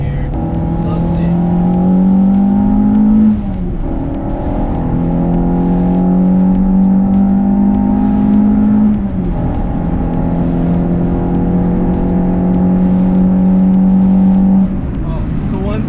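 Close, loud engine of a remapped Renault Clio 172 pulling hard on an open road, rising steadily in pitch through the revs, with two brief dips at gear changes before climbing again.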